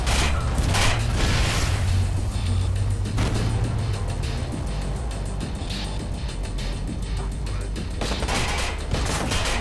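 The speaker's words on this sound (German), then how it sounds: "Wer schießt denn so?" Gunfire from the Watch Dogs video game: bursts of shots and impacts pop over a dense, loud mix of action sounds, with sharper clusters near the start and end.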